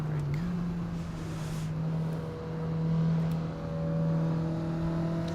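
A Mazda MX-5 in the racing game Assetto Corsa holds a steady engine drone that swells and eases slightly as it drives, with a low continuous hum and no clear shifts.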